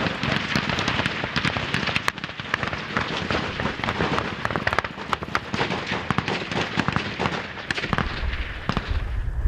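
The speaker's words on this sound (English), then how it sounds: "An attempt at a counterattack faltered under a wall of gunfire." Dense, continuous bursts of gunfire from a firefight during an ambush in South Sudan, with rapid sharp cracks and heavy reports overlapping loudly for the whole stretch, close and sustained.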